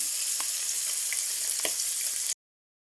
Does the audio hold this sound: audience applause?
no